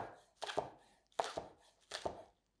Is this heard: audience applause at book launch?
no